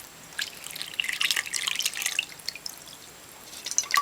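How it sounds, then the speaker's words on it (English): Tap water trickling and dripping into an oven-safe dish over a silk hanky, a soft, sparse splashing with a few distinct drips, close and quiet with no talking. "add enough water to cover the silk"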